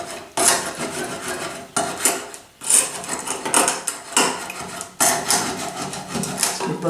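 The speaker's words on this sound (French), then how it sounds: "il reste des aspérités qu'il faut gratter à la main" Beeswax being scraped off wooden beehive frames by hand, including clearing the small groove where foundation wax sits; repeated close, gritty scraping strokes in bursts with brief pauses, no talk.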